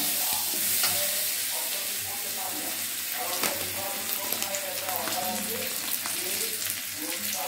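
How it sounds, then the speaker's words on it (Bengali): Chopped garlic goes into hot oil with already-fried dried red chillies for a green moong dal tadka, giving a steady loud sizzle with scraping stirs throughout and a faint voice in the background. "শুকনো লঙ্কাটা কিছু ভাজা হয়ে এসছে, এখন দিয়ে দিচ্ছি রসুন কুচি"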